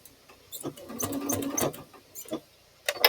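A domestic sewing machine stitches quilt binding in short runs, a close mechanical whirring buzz starting and stopping with small clicks and taps between bursts, no talk.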